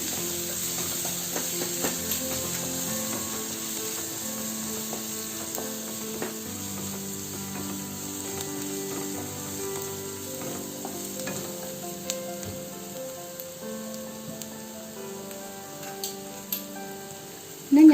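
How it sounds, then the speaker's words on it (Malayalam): A spoon stirs coriander powder into mutton samosa filling in a hot pan, giving a steady sizzle and frying hiss with soft scraping throughout and no talk. "1/2 ടീസ്പൂൺ മല്ലിപ്പൊടി, ഇനി നമുക്കൊന്ന് മിക്സ് ചെയ്ത് കൊടുക്കാം"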